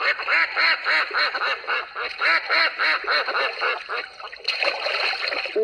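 A duck quacks in a rapid, loud, evenly spaced series of nasal calls, briefly pausing before resuming near the end, heard close and on its own.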